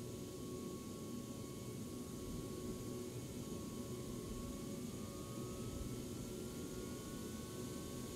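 An airliner's auxiliary power unit turbine runs up in the AirportSim game, a steady, even broadband roar with a faint rising whine, unbroken and without talk.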